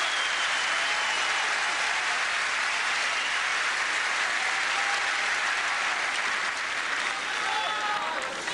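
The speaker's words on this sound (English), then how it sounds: "The fans rightfully applaud Nadal for being such a sporting fellow." Sustained applause from a French Open tennis crowd saluting Nadal during his 2005 semifinal against Federer, a dense, steady wash of clapping that stays loud and even throughout.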